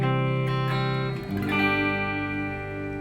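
Electric guitar played through the clean channel of an amplifier with no distortion, ringing sustained chords that decay and then restrike partway through, mellow and neither bright nor bassy.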